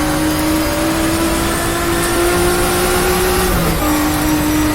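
Race car engine in the Power & Glory racing game, a loud steady buzzing drone holding pitch with a brief dip near a gear change, continuous and close with no speech.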